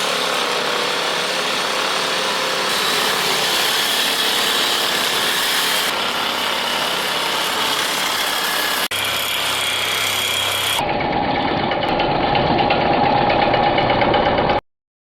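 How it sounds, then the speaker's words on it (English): A power tool cutting through a metal tube on a model car build, giving a loud continuous grinding whine that shifts in tone partway through before stopping abruptly at the end. "So we gotta cut that tube down a little bit, and we gotta cut right in about there."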